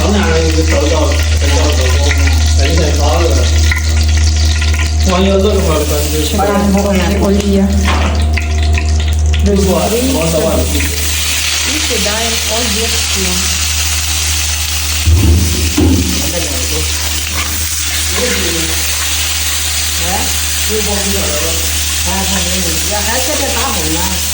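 Food fries loudly in freshly poured oil in a wok, a dense close hiss with stirring scrapes running throughout while people talk over it.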